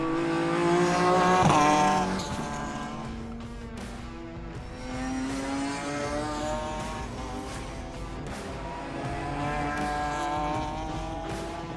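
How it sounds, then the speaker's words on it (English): Race cars circle the Sydney Motorsport Park circuit in an Improved Production over-2-litre race, with engines revving hard through the gears and swelling past one after another, loud and close, with no voices. "it looks like Zak Hudson is going to take the win for the first race"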